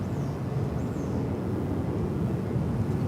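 A jet airliner taking off at DFW Airport gives a steady, loud, broad roar at moderate distance, with no talk over it.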